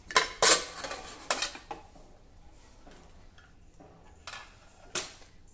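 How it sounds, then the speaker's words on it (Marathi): Metal clatter and clinks from a cooled pressure cooker being opened in a home kitchen while preparing amaranth (rajgira) fasting dishes, a few sharp bursts early, then scattered quieter knocks and one more clank near the end. "कुकर थंड झाला आहे, आता आपण हा उघडून घेऊ।"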